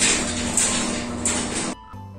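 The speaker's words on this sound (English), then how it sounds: "And now I'm gonna close the door." A garage door driven by a smart Wi-Fi opener rolls closed with a steady, fairly loud motor drone and rumble that cuts off abruptly near the end, leaving a low residual hum.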